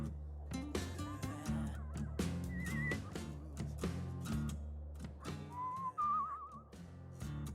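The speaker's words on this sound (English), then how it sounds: "I was trying to do the whistling mechanic" Short whistled notes and warbles from the whistling mechanic in the video game Where the Water Tastes Like Wine, sounding over a low musical backdrop with a steady bass pulse.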